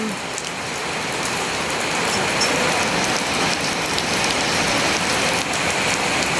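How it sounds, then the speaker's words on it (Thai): Heavy rain pattering steadily on a surface, a dense, continuous hiss that builds slightly at the start and holds throughout. "ฝนมาแบบนี้"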